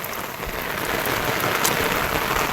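Heavy monsoon rain pours down nearby in a dense, steady hiss that swells slightly and holds throughout, with no voices.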